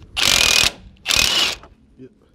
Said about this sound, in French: la clé à choc qui est en mode 3, le plus fort